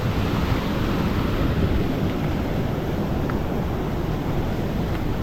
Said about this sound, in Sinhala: මෙතනින් තියෙනවා මම හිතන්නේ පීස්සැල්ලෙන් එන වතුර පාරක්